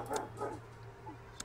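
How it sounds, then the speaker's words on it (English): Pet dogs barking indoors in a few quick, moderately distant woofs and yips, with a short pause between bursts and no talking. "my dogs are loud"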